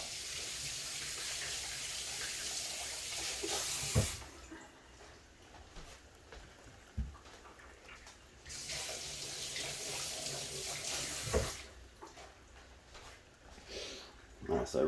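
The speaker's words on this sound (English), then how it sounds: "I'm gonna rinse this off because this is like burning my eyes already." A tap runs for a rinse, its water rushing and splashing steadily in two long stretches while a person talks over it.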